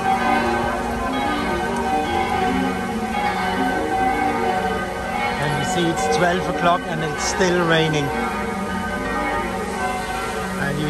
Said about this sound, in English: And you hear the bells of St. James Church.